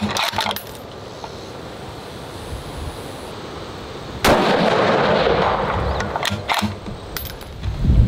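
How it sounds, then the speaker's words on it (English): A rifle fires at long range during shooting practice, with a few sharp reports followed by a long rolling echo over open wind noise outdoors. "Just take a few shots."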